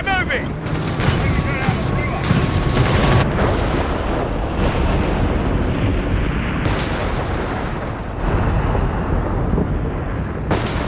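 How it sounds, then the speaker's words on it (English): Dense gunfire and artillery blasts crackle in the Company of Heroes 3 video game during a 4v4 battle, loud and continuous with bursts of shots and booms, and shouted game voices mixed in. "Guns getting fired! Commence!"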